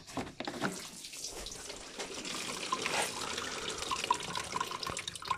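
Coolant spurting and splashing out of the opened reservoir on an Aprilia SR 50 scooter fitted with a 70cc kit, a continuous watery gush with a few drips, close up and moderately loud.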